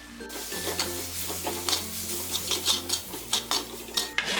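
A spoon scrapes and stirs repeatedly in a hot pan as ground spices and roasted fennel powder are stirred for a crab roast, with a soft sizzle underneath; close and rhythmic, no talking.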